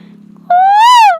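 A voice imitates a koel with a single loud, clear, rising whistled note that swells and then falls away, close and alone.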